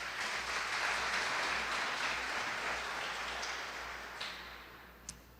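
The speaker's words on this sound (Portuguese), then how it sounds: "Poderíamos aplaudir ao Senhor por isso," A church congregation applauds during a sermon, with broad, steady clapping that fades slowly toward the end, plus a few sharp claps and knocks near the close.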